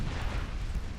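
Deep, rumbling explosion of a heavy shell hitting a warship in Ultimate Admiral: Dreadnoughts, a dense low boom that fills the whole short moment without any voice.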